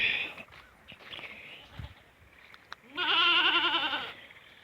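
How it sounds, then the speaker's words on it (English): Goats bleat close by during tropical-storm flooding, a short cry early on and then a long, loud wavering bleat, with some rustling and quiet shuffling in between. "I don't know if you can hear that over the goats."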